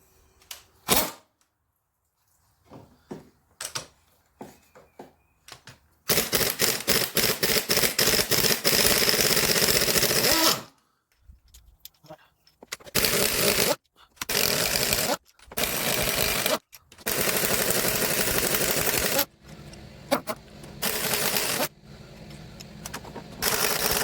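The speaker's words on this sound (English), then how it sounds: "To take the rocker arms off and the push rods out, so let me do that." Rocker arms and push rods come off a small-block Chevy 350 engine: quick ratcheting bursts and sharp metallic clicks start and stop in uneven spurts, loud and close, with brief quiet gaps between.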